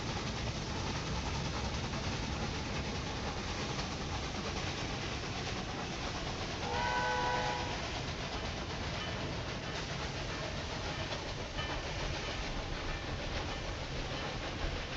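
A train in the railway management game Railway Empire 2 rolls steadily along the tracks, a continuous broadband rumble and clatter with a brief whistle-like tone midway, no voices.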